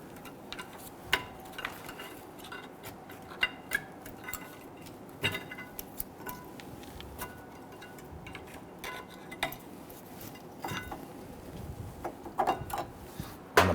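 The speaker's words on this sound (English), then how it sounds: "Remove your brake pads. You might have to use a small pry bar to go ahead and get that" Rear brake pads come out of a Dodge Charger caliper bracket with scattered metallic clinks, taps and scraping rattles, close and irregular, with no talking.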